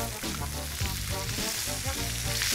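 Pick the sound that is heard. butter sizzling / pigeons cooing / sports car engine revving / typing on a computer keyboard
butter sizzling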